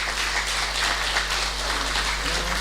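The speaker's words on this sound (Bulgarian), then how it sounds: "искам за него специални аплодисменти" Audience applause at a Bulgarian gathering, a dense steady wash of clapping that holds at an even level from start to finish, with no voices rising above it.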